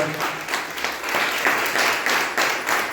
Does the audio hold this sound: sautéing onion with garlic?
no